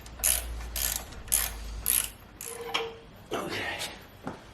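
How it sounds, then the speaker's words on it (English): Engine bolts being tightened with a ratchet on a 1969 Ford Capri engine, heard as several close bursts of rapid mechanical clicking separated by short pauses, with a low hum early on. "I'm gonna tighten the bolts, pull it back out again"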